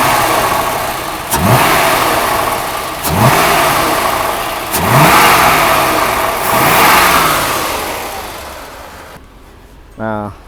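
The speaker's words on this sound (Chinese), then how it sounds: "那我们来试着加速看看" A 1982 Mercedes-Benz R107 380SL engine revs up in four rising surges under acceleration, loud and close, settling between bursts, with a brief voice near the end.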